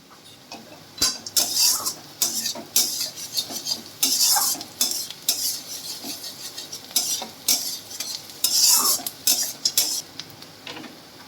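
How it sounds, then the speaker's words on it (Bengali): Chopped onion frying in a pan for fish-head moong dal, with repeated loud scraping and clattering strokes of a spatula over a soft sizzle, and no speech. "এরপর আমি এর মধ্যে দিয়ে দিচ্ছি পেঁয়াজ কুচি পেঁয়াজ কুচিটা খুব বেশি লাল লাল করে ভাজার দরকার নেই"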